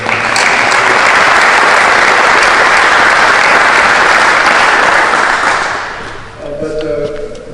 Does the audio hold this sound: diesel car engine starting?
no